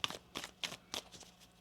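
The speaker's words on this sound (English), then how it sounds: "So, one more shuffle here." A deck of tarot cards being shuffled by hand, giving four or five quick papery riffling bursts in an uneven rhythm, close and fairly quiet, with no talking.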